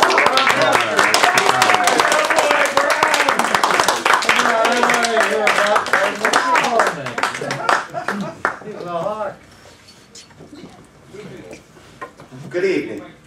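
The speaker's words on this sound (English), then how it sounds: "Let's have a warm round of applause for our pastor." A warm round of audience applause for a pastor at a Catholic Worker gathering, with brisk clapping mixed with loud voices that dies away about two-thirds through, leaving sparse talk.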